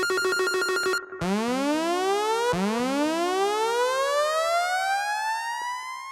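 Synthetic electronic tones from a Roland SP-404 sampler: a quick repeated beeping pattern, then sweeping rising siren-like glides that restart once, bright and steady.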